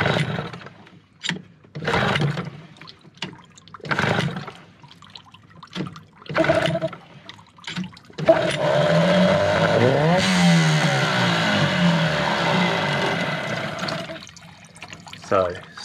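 An outboard boat motor that stalls at idle is being worked on, with spoken talk in short bursts, then the engine starts and runs steadily for several seconds before cutting out.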